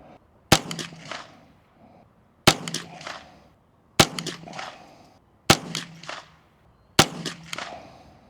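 A custom Ruger 10/22 fires CCI Blazer .22 rounds, five sharp shots spaced about a second and a half apart, each followed by a short echo, with no talking.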